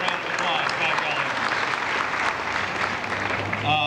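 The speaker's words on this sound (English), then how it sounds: "We'll give you a couple of round of applause" Steady applause from an audience at a county bicentennial celebration, continuous even clapping throughout at a constant level.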